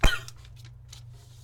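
A single sharp cough bursts out up close at the start, then fades into a steady low hum with a few faint scattered noises.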